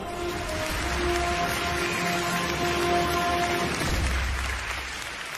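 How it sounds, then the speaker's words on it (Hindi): Soft, distant applause greets a guest at a televised event, a steady wash of many hands clapping that sits under sustained background music and tapers off toward the end. "तो आइए हम सब साथ मिलकर तालियों से स्वागत करते हैं"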